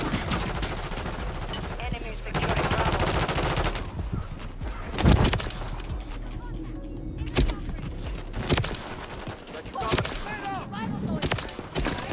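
Rapid gunfire from Call of Duty: Modern Warfare 3 sniper gameplay, with bursts of shots spread across the span, mixed with game sounds and someone talking excitedly over them.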